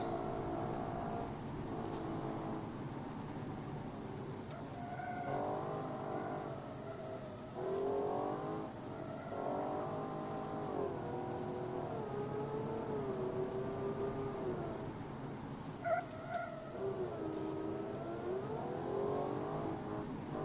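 A video-game car with permanent oversteer is driven at high speed, its engine droning and revving up and down in long sweeping pitch glides, steady and fairly loud throughout, with no talk.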